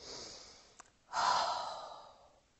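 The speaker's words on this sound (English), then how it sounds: "Let's all breathe for a minute." A single person takes a deep breath close to the microphone: a soft short exhale, a brief catch, then a long rushing breath that slowly fades, with no talking.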